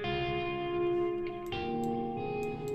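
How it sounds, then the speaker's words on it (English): A guitar tone runs fully wet through the Twangstorm spring reverb plugin in Ableton, with sustained notes blooming into a washy, echoing tail and a sharp splash where a new note hits, with no talking. "It's a spring reverb."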